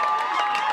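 Soccer fans cheer after a goal at a 2005 NAIA quarterfinal between Hastings and Rio Grande: a brief, dense burst of crowd roar and shouting, loud and sustained throughout.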